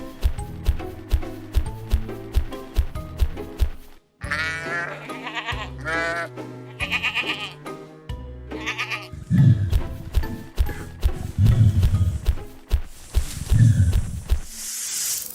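Cartoon sheep bleat repeatedly at a farm, with harmonic cries recurring in short bursts over lively music and hoof-like clip-clop thumps, loud and near throughout.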